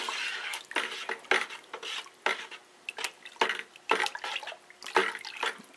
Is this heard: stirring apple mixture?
yes